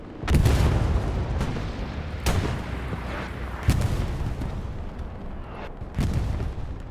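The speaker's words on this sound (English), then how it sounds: "He just went down to bandage himself and just got absolutely murked by that artillery piece." Heavy artillery fire in the WWII shooter Hell Let Loose, a series of deep booming blasts spaced a second or two apart over a constant low rumble, with no talking.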